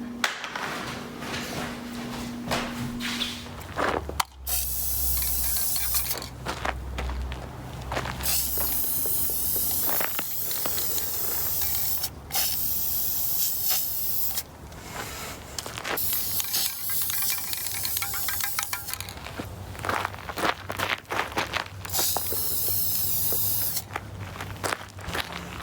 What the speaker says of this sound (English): Time for the spray paint.